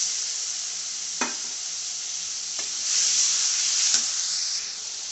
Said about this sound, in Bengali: মশলাটা কষানোর জন্য সামান্য একটু পানি দিয়ে দেবো।